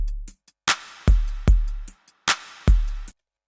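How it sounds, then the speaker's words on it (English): A programmed drum beat loops about two bars, with deep booming kick hits and sharp snare cracks in a steady, dry, close pattern, with no voice. "So now we have a drum kit that sounds like this."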